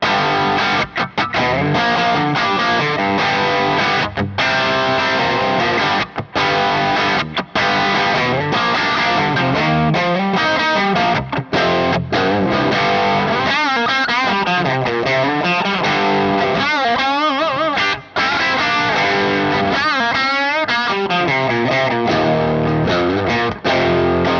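Continuous crunchy, distorted electric guitar through Mesa cabinet impulse responses, playing chords and riffs, loud and sustained, with a roomy church reverb tail blending the notes together.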